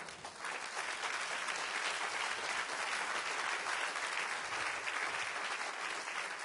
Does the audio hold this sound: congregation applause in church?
yes